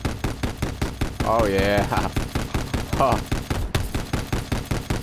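A mounted gun on a boat in Fortnite fires rapid, steady bursts of shots close up, a continuous rhythmic rattle running throughout while a player briefly speaks over it.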